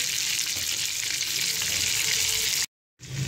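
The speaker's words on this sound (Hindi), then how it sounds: "चिकन पीसीज ऐड करने के बाद इसके नीचे मैं लो फ्लेम कर दूँगी" Chicken leg pieces frying in oil on a low flame, a steady even sizzle throughout that cuts out briefly near the end and then resumes.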